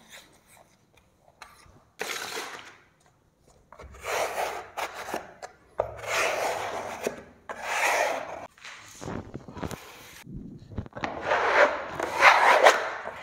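Wallpaper paste is brushed onto the bottom of a wallpaper strip during hanging around a door, heard as bursts of dry rubbing and scraping strokes that are close and moderately loud, separated by short pauses.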